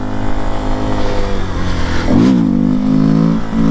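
A Honda XRE 300 motorcycle engine idles loudly and steadily, then revs up sharply for a wheelie, its pitch rising and settling at a higher drone.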